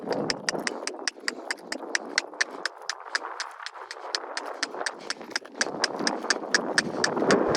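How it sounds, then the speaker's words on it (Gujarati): A mare's hooves clip-clop at an even walking pace on a hard surface, a steady series of crisp knocks close by. "આ જો ઘોડી ધીમે ધીમે ધીમે ધીમે હાકી જાય છે"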